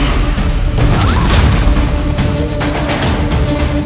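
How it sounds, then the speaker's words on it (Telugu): Bomb blast sound effect from a Telugu TV serial promo: a loud, booming crash with a deep rumbling low end, followed by a lingering dramatic rumble and scattered impacts. "బాంబు పేలడంతో ప్రాణాపాయ స్థితిలో ఉన్న అక్షర."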